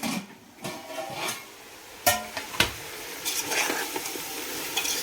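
Food fries in a pan and is stirred up close, with sharp scrapes and clinks of the spatula over a low, continuous sizzle. No one talks.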